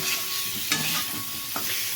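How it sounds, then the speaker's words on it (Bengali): Potatoes with turmeric, salt, cumin and radhuni sauté in a pan, a steady close sizzle with two brief stirring scrapes, no talk. "আলু হলুদ লবণ দিয়ে একটু জিরে একটু রাঁধুনি ফোড়ন দিয়ে এই যে কষাতে বসিয়ে দিয়েছি"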